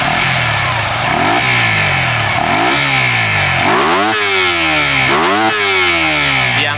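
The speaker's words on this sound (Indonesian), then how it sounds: "Nanti kita gas sampai mentok kira-kira berapa." A Kawasaki KLX 250 motorcycle engine fitted with a Ninja Mono injector, idling and then revved hard to full throttle in repeated loud, rising bursts that fall back between pulls.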